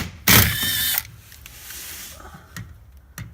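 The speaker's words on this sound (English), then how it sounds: "Got to get to the oil pan, so remove the 4 10mm bolts here." A ratchet wrench works loose the 10mm bolts holding a car's skid plate while the oil pan is reached, a loud burst of clicking ratchet mechanism followed by quieter handling and a couple of sharp taps.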